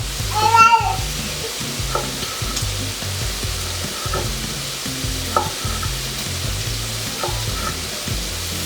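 Italian sausage frying in a pan gives a steady, close sizzle throughout, broken by occasional scrapes and clicks of a utensil moving it around, with faint voices in the background.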